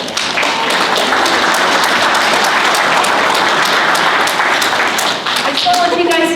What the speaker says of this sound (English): We give them a big round of applause.